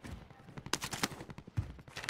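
Rapid bursts of Call of Duty gunfire crackle in quick succession, several sharp shots close by with a steady, rattling rhythm.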